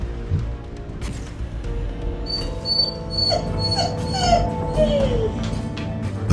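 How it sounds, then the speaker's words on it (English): A dog named Fen whimpers in fear, a series of thin, high, wavering whines rising and falling over a low background hum, fairly close and repeated several times. "Fen hears a footstep and starts whimpering, showing sign of fear"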